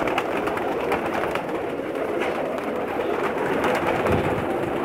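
A large flock of Kamagar, Golden and Imamdin pigeons in Jeddah, a dense continuous layer of overlapping coos and murmurs at moderate distance, with no talk.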